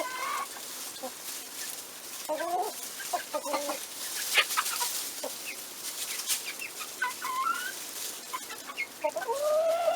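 Several chickens cluck softly and a rooster gives short calls, scattered over steady outdoor background noise, with no talking.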